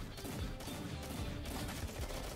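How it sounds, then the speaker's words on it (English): A Gatling gun in a Roblox game fires in a rapid, rattling stream of repeated shots, dense and continuous under a busy, noisy background. "Look at the fucking Gatling gun."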